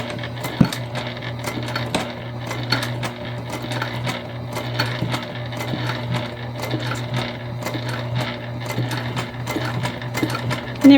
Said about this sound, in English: We might actually do a 3rd row of stitching here